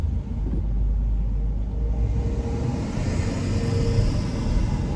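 A 2016 Land Rover Range Rover pulls away under acceleration, its engine a steady, loud low rumble with broadband road roar that swells gently over several seconds and no voices over it.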